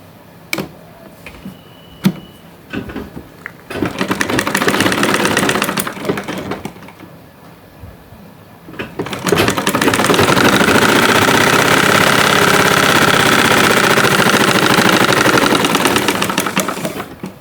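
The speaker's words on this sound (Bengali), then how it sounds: "আরেকটা সেলাই দিয়ে নেব।" Sewing machine stitching trousers, starting with a few clicks, then running in a loud close burst, pausing briefly, and finishing with a long steady whir of stitching.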